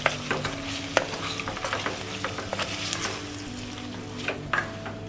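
Ginger, garlic and turmeric paste fries with onions in a pan, a steady close sizzle broken by sharp scraping clicks of a spoon stirring at an irregular rhythm, with no voices.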